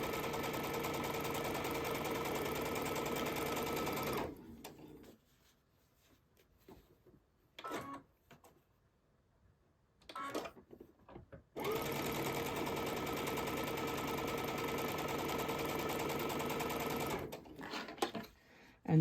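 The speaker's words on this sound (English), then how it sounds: "I can come back to the beginning of my chain and sew the other side of my half square triangles." A sewing machine chain-piecing half square triangle quilt blocks runs in two long steady bursts, with short quiet gaps of fabric handling between them.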